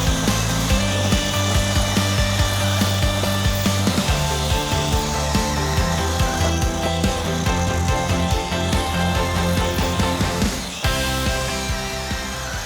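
A cordless non-hammer drill bores into concrete, giving a loud, continuous grinding whine that holds steady for several seconds and shifts pitch near the end.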